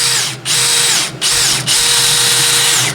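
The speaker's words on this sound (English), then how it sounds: "Let's take a look at this 3/8" drill." A DeWalt 12V Xtreme brushless 3/8-inch cordless drill whirring at high speed close by, briefly dipping three times as the trigger eases, otherwise a steady loud whine.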